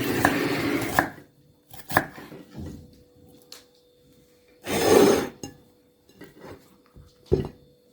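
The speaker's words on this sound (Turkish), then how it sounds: "Şöyle doğruyorum. İki tane soğanımız var." A knife chops onions on a board for Turkish stuffed cabbage rolls, making crisp, close thuds in short irregular bursts separated by quiet pauses, with no talking.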